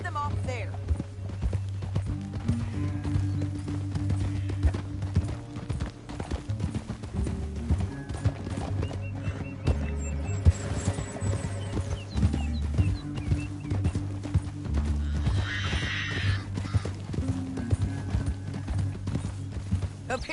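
Horses gallop in Red Dead Redemption 2 in steady, rhythmic clip-clop beats throughout, with voices talking over the hoofbeats and occasional higher whinnying sounds.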